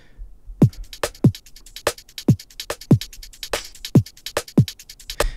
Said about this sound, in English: Let's just go ahead and listen to the drums.